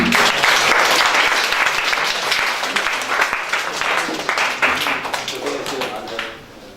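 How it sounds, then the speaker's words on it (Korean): Loud, dense applause breaks out in a lecture hall as a student is welcomed, with crowd voices mixed in before the clapping fades out at the end. "박수 한번 하겠습니다"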